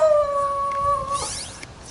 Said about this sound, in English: It's the neighbor's dog there